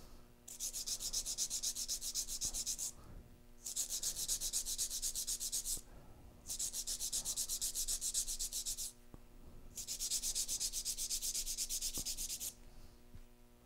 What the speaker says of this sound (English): I'm going to shorten the nails about as much as they grew.